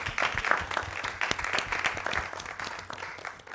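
A crowd applauds steadily, a dense patter of many hands clapping that slowly fades toward the end.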